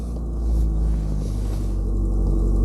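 A classic Volkswagen Scirocco begins to roll forward, its engine giving a steady low rumble that swells slightly as the car moves off, heard from inside.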